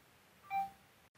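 A single short electronic beep from the timer of a T3 CurlWrap automatic rotating curling iron, heard once, near and clear, during a hair curling session, with quiet room tone around it.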